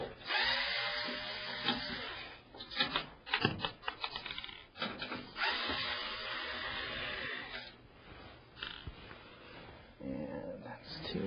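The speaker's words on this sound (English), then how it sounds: "I'm going to use my electric screwdriver and take these screws off." An electric screwdriver whirs in short bursts as it backs screws out of the back of a computer case, with pauses and handling noise between them, close up.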